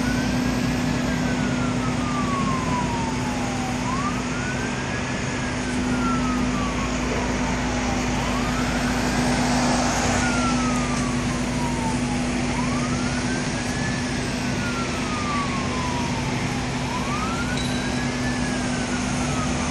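Fire engines approach with a wailing siren that sweeps up and down in slow repeating cycles, over a steady rumble of engine and traffic, loud and sustained throughout.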